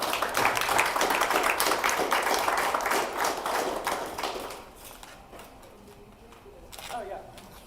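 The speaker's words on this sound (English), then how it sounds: "A round of applause for that." Audience applause after a showcase reading, a dense roomful of clapping that holds loud and steady for several seconds, then fades out, with a short lift of scattered claps and voices near the end.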